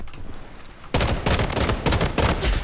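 Hip-fire gunshots from an Alfa weapon in Blood Strike, a quieter lead-in followed by a loud rapid string of close, punchy automatic shots in quick bursts.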